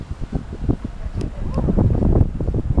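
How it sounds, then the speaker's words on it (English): Gusty wind buffets close to the microphone in uneven rushes at an outdoor protest in Montreal at minus 30 degrees, with some faint rustling and a few low thumps. "it's getting windy"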